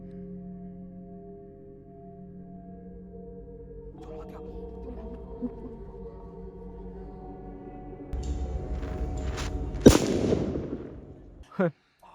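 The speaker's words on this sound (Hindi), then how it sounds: "भाई रशिया का बम तो तगड़ा है यार" A Diwali firecracker bomb goes off outdoors: a low hum gives way to rising hiss, then one loud, sharp blast followed by a short final pop, with voices nearby.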